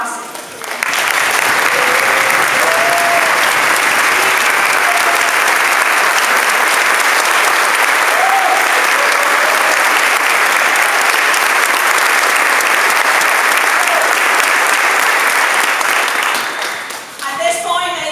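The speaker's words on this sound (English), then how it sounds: "stand and give these individuals a round of applause" Sustained standing ovation from an audience at a Hispanic Youth Institute opening event in Virginia, loud, dense applause swelling in and holding steady for about sixteen seconds before tapering off, with some faint voices mixed into the crowd noise.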